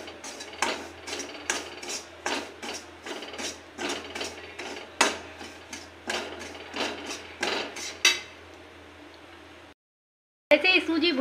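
A spoon scrapes and knocks rhythmically against a pan while semolina roasts for halwa, dry rasping strokes repeating at a steady pace before a brief silence and a final clatter.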